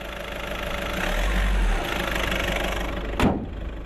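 Skoda Superb Greenline with a 77 kW 1.6-litre diesel runs at a steady, close hum with a low rumble, and a short sharp knock or door-like thud lands near the end.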